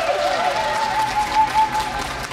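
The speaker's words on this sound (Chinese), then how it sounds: "给彤彤妈拍拍手好不好" Brief applause from a studio audience on a Taiwanese variety show, a moderate patter of clapping with a faint voice or tone running underneath.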